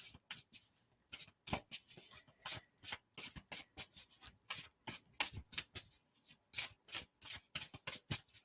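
Tarot cards are shuffled by hand in quick, irregular bursts of crisp riffling and sliding, close and fairly quiet, continuing with short pauses throughout.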